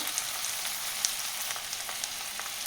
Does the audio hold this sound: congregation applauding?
no